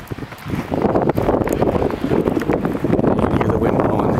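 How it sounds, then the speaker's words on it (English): Gusty wind from a spring snow blizzard in the Twin Cities roars and buffets the microphone, steady and loud with rustling bursts throughout. "can hear the wind blowing."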